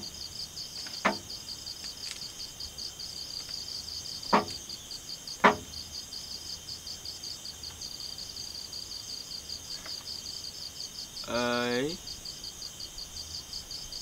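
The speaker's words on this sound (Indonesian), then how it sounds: "cuma terdengar suara-suara jangkrik nih" Crickets chirp at a night campsite in a continuous high-pitched pulsing drone, with a few sharp knocks and a brief rattling sound breaking through the night ambience.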